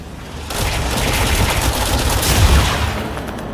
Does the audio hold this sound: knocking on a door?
no